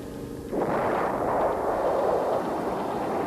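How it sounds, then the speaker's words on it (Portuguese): A heavy rumbling blast from American B-52 bombing in Vietnam, a sudden roar that swells and then sustains as a dense, continuous low rumble with no voices. "Os ataques aéreos norte-americanos continuaram."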